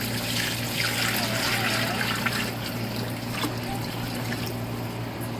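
Water pours steadily into a cooking pot for fish jollof rice, a continuous splashing trickle that sounds close and fairly loud and is heard on its own without speech.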